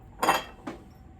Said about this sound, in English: my cat is walking amidst all of the glass on the table.